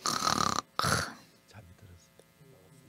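A voice imitating a sleeping man's snore, two loud throaty bursts at the start followed by quieter breathy noises.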